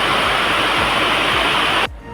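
Heavy rain pours down at Mandu, a loud dense roar of water that holds steady and then cuts off abruptly near the end.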